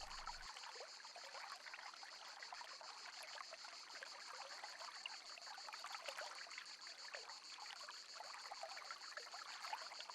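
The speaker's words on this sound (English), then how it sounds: "The streams carry very little water." A small forest stream running low in the dry season trickles in a steady, even wash that holds at the same level from start to end, with no voices.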